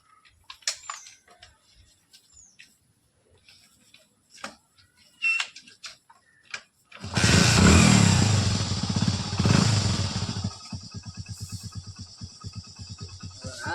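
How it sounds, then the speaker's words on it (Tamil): A motorcycle engine is started at home after a few faint clicks and knocks, catching with a loud burst, then settling into a steady, rapid ticking idle close by. "நம்ம வண்டி இப்போ ஆன் பண்ணி காட்டுறோம் பாருங்கள்"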